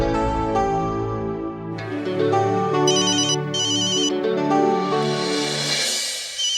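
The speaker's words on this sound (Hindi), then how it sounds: "रोशनी का फोन?" A phone ringtone plays loudly and alone for several seconds as a melodic electronic tune in a comedy-drama household scene, with tonal notes stepping through a repeating phrase.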